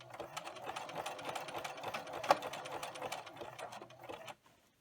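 A sewing machine stitches a folded fleece strip for a loopy boa, its rapid steady whirr running close and continuous for over four seconds before stopping abruptly.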